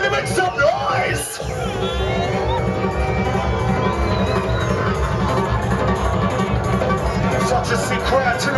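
A nightclub crowd at a set at Shape Nightclub fills the room with loud, sustained cheering and yelling over a thumping low music bed, with scattered whoops rising throughout.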